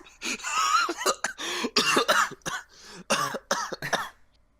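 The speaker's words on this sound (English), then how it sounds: "you got me to cough" A person coughs repeatedly in a rough, hacking fit, several bursts in quick succession with throat clearing, close and loud.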